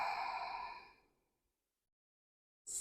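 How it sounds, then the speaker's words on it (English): A long, slow exhale during a yin yoga flow, a soft airy breath close to the listener that fades out over about a second, followed by silence and the start of another breath, with no talking. "And take a full breath. Inhale. And exhale."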